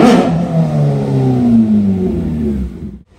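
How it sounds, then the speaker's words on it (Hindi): A third-generation Kawasaki ZX-10R with a stock SC exhaust, very loud and close, revs hard at first and then falls away in a long descending engine note before cutting to near silence. "गाइस ये बहुत लाउड है, इसमें स्टॉक एग्जॉस्ट लगा हुआ है एससी का"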